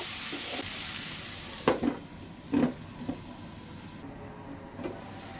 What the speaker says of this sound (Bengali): টমেটো কুচি একসঙ্গে দিয়ে নেড়ে চেড়ে নিব আর ধুনধুল ঢেঁড়সটা একটু পরে দিব ভালো করে নেড়ে আবার একটু কষিয়ে নিব